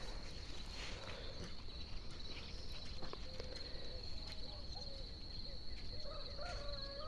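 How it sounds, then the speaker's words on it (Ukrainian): Crickets chirp steadily somewhere in a quiet rural garden on a warm evening, a faint continuous high trill with occasional bird calls and soft rustling, no talk. "І цвіркуни десь співають."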